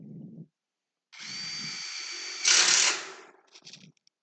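Power drill driving screws in a whiskey distillery workshop: one loud continuous whir of about a second and a half, then a brief sharper burst, with short low knocks before and after.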